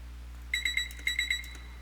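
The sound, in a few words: microwave beep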